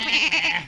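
A single short, wavering bleat from a sheep, loud and close, lasting well under a second.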